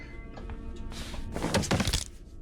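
In the horror video game Granny, a shotgun is thrown down, landing with a heavy thunk and then a clattering crash of scattered knocks, close and loud over low game background noise.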